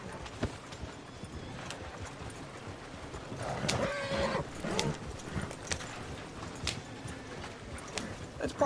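A horse in a video game clip-clops along with steady hoofbeats and neighs loudly midway, close and clear over a quiet background.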